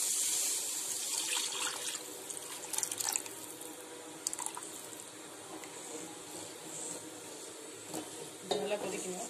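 Tamarind water splashes and sizzles into a hot pan of fish curry, followed by stirring and scraping, with faint clinks of utensils.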